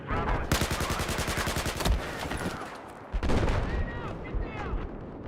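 Gunfire in Battlefield 4 online play: a fast automatic burst of rapid shots, then a pause and another loud shot followed by scattered game effects, all close and loud.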